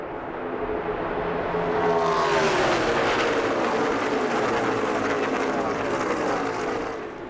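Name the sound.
NASCAR stock cars racing down the backstretch at Texas Motor Speedway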